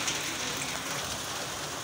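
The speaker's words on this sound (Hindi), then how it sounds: "पता नहीं यार बारिश कब तक चलेगी" Steady rain falls continuously during a monsoon downpour, a dense even hiss of drops on surfaces with no talking.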